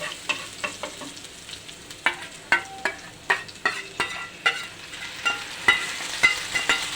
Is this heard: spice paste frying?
yes